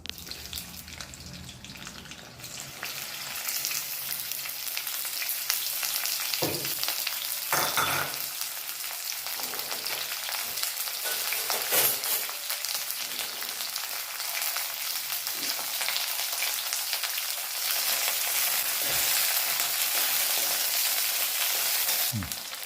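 Cut okra frying in a pan on a home stove for kadhi, giving a steady, loud sizzle that fills the clip, with a few soft stirring knocks and no talking.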